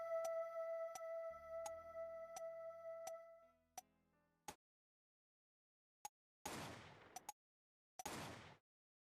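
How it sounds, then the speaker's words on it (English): A single gunshot rings out within a recorded music evidence track in Apollo Justice, a sharp crack among steady tones and ticking beats that fade away, followed by a few short sharp hits and bursts separated by silence. "you can clearly hear the gunshot at the start of 2 and at the end of 1"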